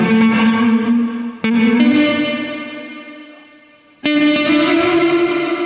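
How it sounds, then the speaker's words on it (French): Electric guitar run through a drive and distortion pedal with reverb: thick, buzzy chords ring out and slowly decay, with two sharp re-attacks and a lingering reverberant tail. "Il drive, il distort sa, enfin, il distord sa reverb."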